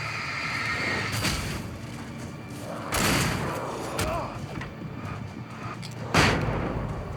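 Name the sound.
flashbang going off in video game Alan Wake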